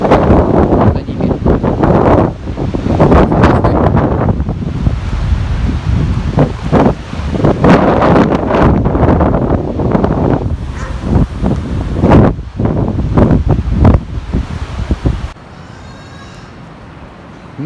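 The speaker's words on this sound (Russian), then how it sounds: "Ну вот шум моря" Sea surf at Kobuleti, heard from a few hundred metres away during a squall: a continuous roaring wash buffeted by strong, gusting wind and microphone rumble, easing slightly near the end.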